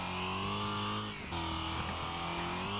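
Car engine droning steadily in the racing game Wreckfest, a sustained harmonic tone that briefly dips and shifts pitch midway before holding again, loud and continuous with no talk.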